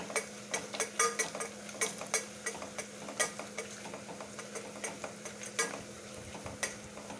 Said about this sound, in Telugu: ఒక టేబుల్ స్పూను జీరా ఒకట పాల టేబుల్ స్పూను వేసి వేయించుకోవాలి